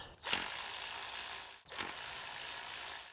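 A hand ratchet works loose the bolts on the transmission shift solenoid of a 2001–2007 Chevy Silverado with an Allison gearbox: two short bursts of quick metallic clicking, close by, with a steady hiss in between.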